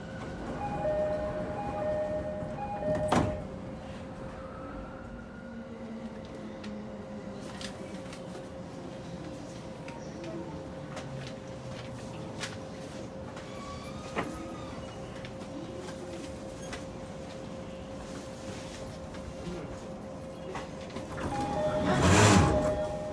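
Door engine of a JR Sobu Rapid and Yokosuka Line E217 series train gives off a strange, sustained droning tone inside the car, with sharp thunks and clanks breaking in and a louder rattling burst near the end.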